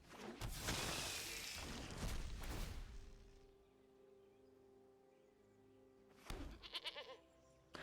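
A game goat in MTG Arena lets out a loud bleating cry, then a brief rattling series of bleats follows after a quiet stretch with a faint sustained tone.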